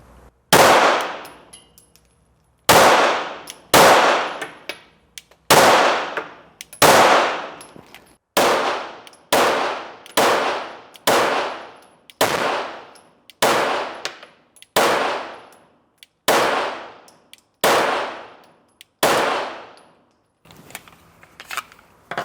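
Shots from a Shadow System DR920P pistol with a compensator, about fifteen sharp, loud reports spaced a second or so apart at a steady pace, each with a short ringing decay, with no talk.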